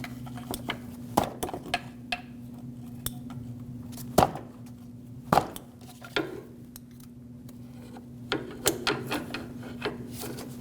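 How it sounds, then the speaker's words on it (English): A pry bar pushes a stuck connector off the crankshaft position sensor on a 2006-2015 Lexus IS250 2.5L V6, making scattered scraping rubs and sharp clicking knocks over a steady background hum. "I'm using a pry bar to help me push it"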